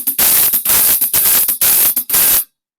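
Bright, hissy hi-hat strokes fire in quick clustered groups of three, loud and close, then stop abruptly into silence.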